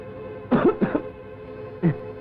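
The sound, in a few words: cough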